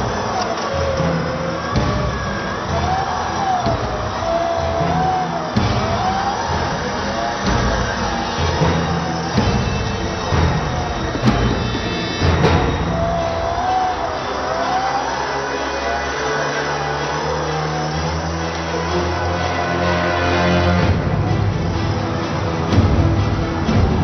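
The engine of a two-ton vehicle revs and strains in slushy mountain terrain on the Mughal road, whining and surging continuously as it works its way out of the mud.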